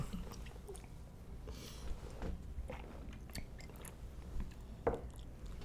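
Close, wet chewing and biting on pickled peppers, with soft squishy crunches rising and falling over about six seconds and one sharper bite near the end, no talking.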